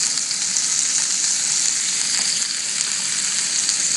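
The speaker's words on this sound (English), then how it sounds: "Listen to that sizzle." Chicken sizzles in a hot pan, a bright continuous crackling fry holding steady and close throughout with no voices over it.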